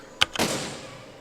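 A sharp crack followed a moment later by a heavier boom that decays into a rumbling tail, cannon fire from a spinning machine in the game Besiege.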